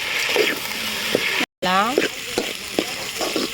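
Potatoes with salt sauté in a pan over a wood-fired stove, a loud continuous sizzle with spatula scrapes and stirring, close up; a brief cut breaks it midway.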